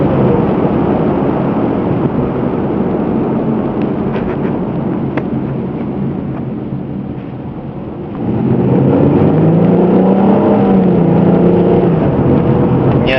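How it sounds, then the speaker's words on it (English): A Ford Mustang engine drives a daily commuting route in Costa Mesa, California, a loud, steady rumble that dips slightly, then swells with a rising, revving tone near the end, with no talking. "That is a Mustang engine you hear."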